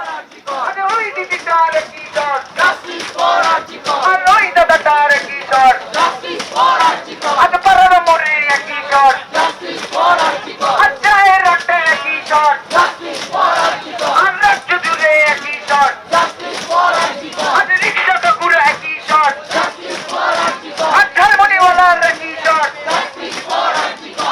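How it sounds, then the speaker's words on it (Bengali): Protesters at a sit-in stage outside Swasthya Bhavan chant slogans in loud, rhythmic call-and-response, a dense crowd of voices rising and falling continuously with occasional claps. "স্বাস্থ্য ভবনের সামনের ধর্ণা মঞ্চের কি অবস্থা শুনুন। সেখানে স্লোগান জোরালো হয়েছে।"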